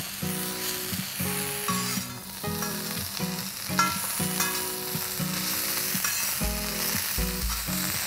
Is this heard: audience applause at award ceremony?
no